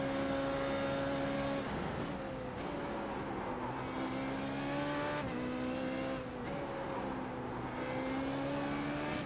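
A Formula 3.5 race car laps a circuit, its engine droning loud and steady, with pitch climbing through each gear and dropping sharply on the shifts.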